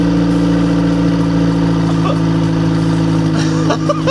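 A car engine idling while burning oil, a loud, steady low rumble with a rough, uneven pulse and brief revving at the end, with voices faintly audible over it.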